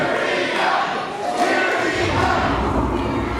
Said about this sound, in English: This crowd is right behind Security Guy